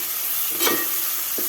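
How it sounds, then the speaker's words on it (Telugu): Ginger-garlic paste hitting hot oil in a pan while making fish curry, giving a brief sizzling burst with a stir midway through a low, steady frying hiss; close and fairly quiet, no talking. "ఇప్పుడు అల్లం వెల్లుల్లిపాయ పేస్టు మెత్తగా వేయనండి, కొంచెం కచ్చాపచ్చాగా వేస్తాను."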